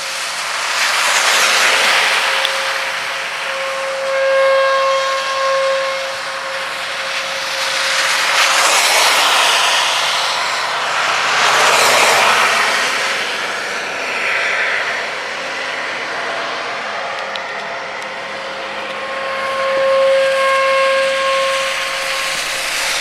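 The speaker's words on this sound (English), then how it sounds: "I could hear the eerie tornado sirens." Tornado warning sirens wailing over the countryside during a Texas tornado outbreak, heard from a distance as long tones that rise and fall in slow repeated swells, with no talking.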